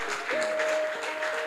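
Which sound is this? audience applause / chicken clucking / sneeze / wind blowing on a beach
audience applause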